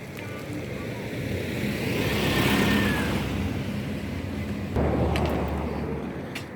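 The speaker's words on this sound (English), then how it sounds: "Car is coming." A car approaches and drives past on a road near the Blue Mountains in Jamaica, its engine swelling to a peak before fading, with a brief knock near the end and some background voices.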